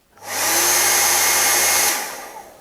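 A Panasonic hair dryer switches on and blows steadily with a loud, airy whoosh and a faint whine, then cuts off and fades after about two seconds.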